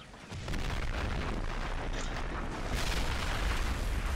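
Artillery shells pounding enemy tanks in a video game: a dense, continuous roar of booms and blasts, loud and steady, with a louder surge of explosions near the end.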